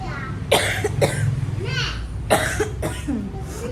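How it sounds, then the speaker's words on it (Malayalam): Several harsh, chesty coughs come close to the listener in uneven bursts, with short breaths between them. "ചുമ പിടിച്ചിട്ടുണ്ട് കുറച്ച് ദിവസമായിട്ട്. രാത്രി ആകുമ്പോൾ മാത്രമാണ് നല്ല ചുമ വരുന്നത്."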